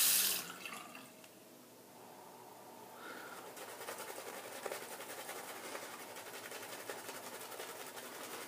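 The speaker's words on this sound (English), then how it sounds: "I'm just going to rinse the soap off so I can set it down here" Running water from a tap rinsing soap off a Rooney shaving brush, a steady close hiss and splash that fades briefly and then picks back up, with no speech.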